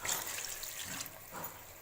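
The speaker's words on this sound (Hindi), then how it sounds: "आधा कप पानी डाल के इसको थोड़ी देर के लिए मैं चिकन को गलने के लिए छोड़ देती हूँ" Half a cup of water is poured into a pan of browned chicken, giving a soft, faint splashing hiss that rises near the start and again briefly toward the end.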